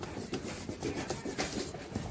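A rubber eraser scrubs a pencil line off paper in quick, rhythmic back-and-forth strokes, a close scratchy rubbing with no talking.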